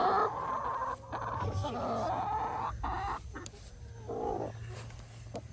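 A broody hen in a chicken coop gives close, agitated clucks and grumbling growls in uneven bursts, with faint background noise and no clear talk.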